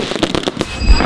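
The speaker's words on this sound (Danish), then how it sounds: "Vi skal til at skyde af for en kvart million i fyrværkeri." Large fireworks display in Denmark, with rapid crackling pops followed by a deep booming burst, loud and close.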